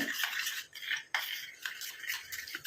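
A spoon stirs homemade hair dye paste round a bowl, scraping and clinking against the sides in quick, uneven strokes, close and moderately quiet, with no talking.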